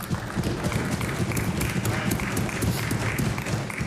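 Applause in the House of Assembly, a dense steady patter of many hands clapping together throughout, moderately loud and continuous with no talking over it.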